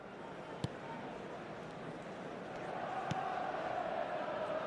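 Stadium crowd noise in a football video game, a broad steady roar of applause that swells slightly toward the end, with a couple of sharp thuds from the match.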